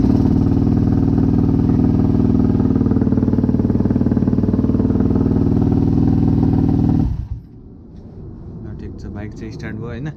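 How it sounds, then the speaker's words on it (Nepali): A Yamaha WR250 motorcycle engine, checked after a spark plug change, runs loud and steady close by, then cuts off abruptly, leaving a quieter stretch with faint voices. "इन्जिन अन गरौँ होइन।"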